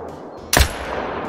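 A single .308 AR-10 rifle shot from the hunting game Call of the Wild cracks loud and close, a sharp broadband blast followed by a rolling tail over steady outdoor ambience.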